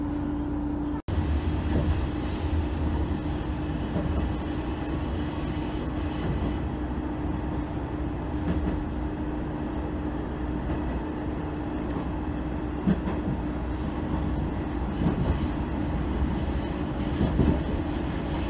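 A Sanriku Railway local train pulls into Kamaishi station in Iwate, with a steady loud rumble of wheels on rail throughout, a sharp transient near the start and occasional squeals and clatter as it slows.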